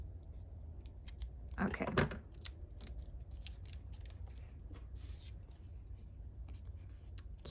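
Scissors cut paper for a junk journal circle tag in a short close burst of snipping near the middle, with quiet handling sounds on either side and a single brief spoken word.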